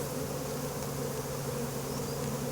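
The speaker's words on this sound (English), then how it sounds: "that's the swarm of honeybees" A swarm of honeybees gives off a continuous, even buzzing drone, faint and steady throughout without voices.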